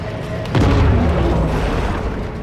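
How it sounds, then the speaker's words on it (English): A torpedo explodes in the Angry Shark video game. It lands as one loud, deep boom with a rumbling tail that fills the rest of the clip. "Torpedo."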